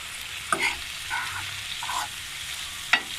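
Boiled chicken with half a spoon of soy sauce is stirred in a frying pan, a soft sizzle under a few scraping stirs and light clinks of the utensil against the pan, with no talking.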